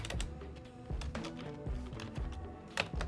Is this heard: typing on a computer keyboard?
yes